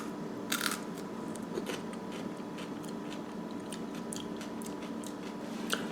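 Raw spiny gourd (Momordica dioica) being bitten and chewed, a sharp crisp bite followed by repeated faint, close crunching chews, with no talking.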